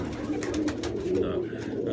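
Pigeons coo in low, soft throaty bursts from a winter dovecote where the birds are flown, a steady murmur of several birds close by with faint background noise.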